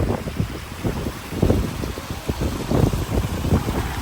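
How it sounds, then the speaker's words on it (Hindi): Strong wind buffets the microphone in gusty, rumbling bursts, loud and continuous with no talking. "और तेज़ हवा बहुत है"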